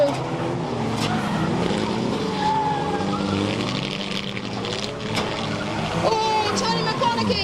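Race car slams into the lower armco barrier at Fleet Raceway during a crowded stock-car meeting, the impact lost in a dense roar of engines and crowd noise, with a commentator talking over the whole scene.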